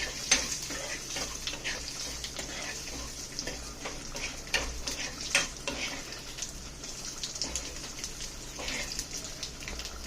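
Onions, curry leaves and asafoetida fry in a pan for a tempering, a steady close sizzle with regular stirring scrapes and a low hum underneath.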